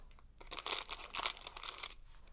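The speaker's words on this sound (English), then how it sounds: "These plastic bags are unbelievably hard to open." A stiff plastic bag from a brick building set is torn and crinkled open in a burst of sharp rustling and tearing lasting under two seconds, close and fairly quiet, with no talk.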